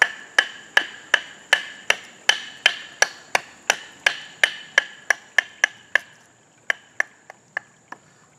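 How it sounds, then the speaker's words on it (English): A Habilis Pathfinder trade knife splits wood down into kindling, giving about twenty sharp, evenly spaced woody chops that thin out and grow quieter toward the end, with no talking. "So we want to process some wood down for kindling."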